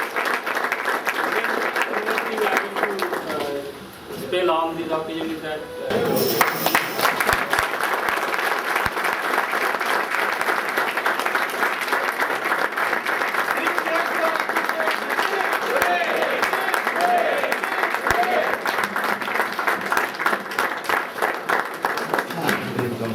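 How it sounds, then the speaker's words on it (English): A crowd at a new college canteen inauguration breaks into sustained, dense applause that fills the space for about twenty seconds, with a brief voice heard speaking near the start. "Round of applause for them."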